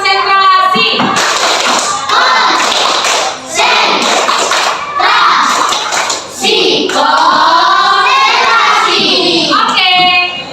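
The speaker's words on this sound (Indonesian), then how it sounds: "Tepuk konsentrasi." A class of children doing a concentration clapping game, with bursts of rhythmic hand claps and thumps mixed with the children's voices chanting and talking loudly throughout.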